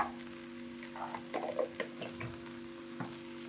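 Cooked rice and salt stirred in a hot pan for potato rice, a low steady sizzle with scattered scraping taps from the spoon, close and quiet, with a faint hum underneath.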